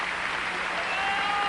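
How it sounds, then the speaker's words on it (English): Crowd at the French Open tennis final standing and applauding the champion, a loud, dense and even roar of clapping from a large stadium audience, sustained throughout with a faint tonal whistle near the end. "the people standing and applauding him"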